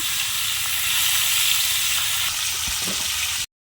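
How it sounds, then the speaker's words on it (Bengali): Fish sizzles in hot oil in a kadai wok, a loud, steady, dense frying hiss that runs unbroken for a few seconds and then stops abruptly. "কড়া গরম হয়ে গেছে, তেল দিলাম, মাছগুলো দিয়ে দিলাম।"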